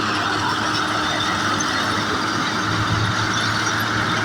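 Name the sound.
Shaktiman mulcher machine running in sugarcane field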